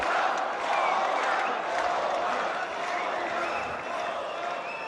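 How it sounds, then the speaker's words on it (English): A large crowd at a fight event chants fighter Alexander Volkov's name, a steady distant roar of massed voices filling the venue, with a commentator's voice faintly over it. "The crowd is chanting Volkov."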